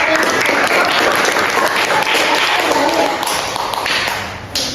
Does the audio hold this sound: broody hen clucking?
no